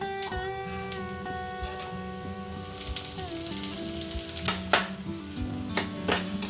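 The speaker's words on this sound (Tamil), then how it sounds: "உளுந்து, கடலைப்பருப்பு நல்லா வறுத்துக்கலாம்." Urad dal and chana dal sizzle and crackle as they roast in a hot oiled pan, a steady close frying hiss with occasional sharper pops and light scraping from stirring.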